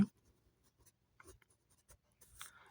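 Pen or pencil writing on paper during a grade-five math lesson, a few faint, soft scratchy strokes in short bursts close by with no talk.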